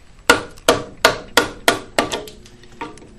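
A mallet strikes a big chisel carving wood for a mantel, giving about eight sharp, close, evenly spaced knocks that soften toward the end, with no talk.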